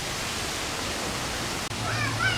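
Waterfall inside a zoo gorilla exhibit, a steady, even hiss of falling water heard up close, with a brief break and a voice starting to speak near the end.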